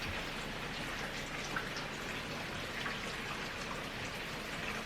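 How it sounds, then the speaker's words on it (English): Heavy rain pours down steadily, a dense, continuous hiss with scattered distinct drops pattering on surfaces close by, no voices. "it's pouring down rain right now"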